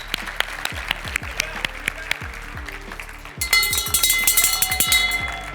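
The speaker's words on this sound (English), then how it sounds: "Let's all clap for that." An audience claps at a real estate seminar, starting with sparse, spaced claps, then swelling into a denser burst of applause with some ringing tones underneath.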